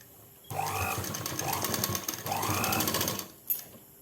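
A sewing machine stitches a sudithar pant, running in a steady rapid chatter for about three seconds with a brief pause partway, close and fairly loud, with no one speaking.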